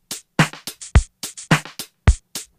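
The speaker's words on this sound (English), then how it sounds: "So without the reverb, it sounds like this." A dry, snappy drum machine pattern of short, clipped kick, snare and hat hits with silence between them, a slight delay on the snare, repeating at a brisk tempo.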